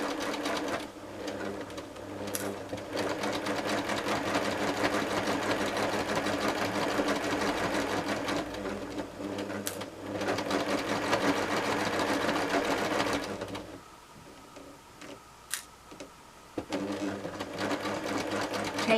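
A sewing machine stitches a cushion with the needle set to stop down, running in a steady close whir for most of the stretch before pausing briefly and starting up again.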